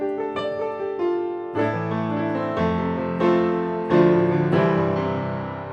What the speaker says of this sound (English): the 1926 version of the piano could sound like this